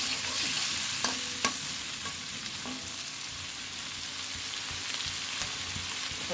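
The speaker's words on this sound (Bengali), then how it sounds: "সোমবারটা ফোড়ন দিয়ে পেঁয়াজ সব কিছু ভেজে নেব।" Onions and tempering spices fry in a pan for bottle gourd with prawns, a steady close sizzle with a few sharp clinks of a stirring spoon against the pan.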